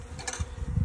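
Bees buzzing at a beehive, a steady insect drone that swells briefly partway through, close and fairly faint.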